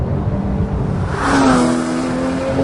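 A Porsche 911 GT3 with a 3.8-litre direct-injection flat-six accelerates, its engine note rising to a sharp, loud wail halfway through and holding a steady howl.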